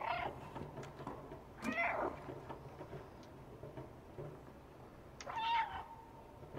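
A cat meows a few times in the video game Stray, with calls spread across a quiet ambient game background; one sharp meow comes early and a longer, louder one near the end.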